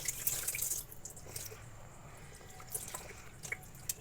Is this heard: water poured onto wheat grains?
yes